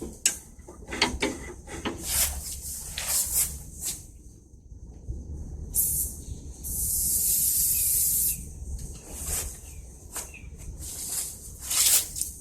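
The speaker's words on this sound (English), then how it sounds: "I'm also going to lubricate some of my moving parts right here" Short bursts of lubricant spray hiss close by on the moving parts and handles of a 1979 Lazy Boy B 400H vintage push mower, with one longer spray and light rubbing and handling clatter between bursts.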